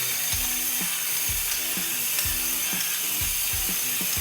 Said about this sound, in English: I am gonna take my pepper grinder and I put a little more pepper on top of this brisket